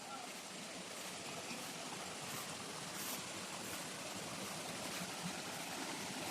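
A flowing river in the countryside, a steady broadband rush of water heard at moderate distance, continuous and even, with people talking faintly over it.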